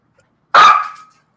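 A dog gives a single sharp yelp after its tail is struck by a rolling office chair, close and loud, quickly fading, with near silence before it.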